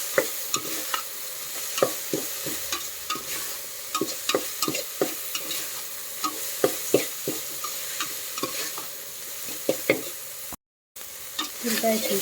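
Onions frying in a pan for a mango sambar, a steady low sizzle with a quick regular series of spoon scrapes and taps against the pan, close and alone, cutting out briefly near the end.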